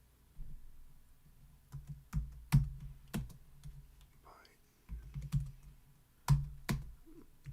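Keys on a computer keyboard are pressed in scattered bursts, giving sharp close clicks and taps with pauses between them against a quiet room.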